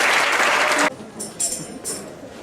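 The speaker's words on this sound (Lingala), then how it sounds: "Acclamez pour la parole du Seigneur." Congregation at a church service bursts into brief, loud, dense clapping that stops abruptly after about a second, followed by a few short whistles or cheers.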